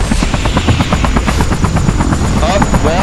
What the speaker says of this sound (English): Oh, well, there goes that helicopter.